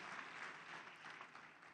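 An audience at a Nigerian democracy and free-market forum gives a short burst of applause, a dense even clatter of many hands heard faintly from a distance with no voices.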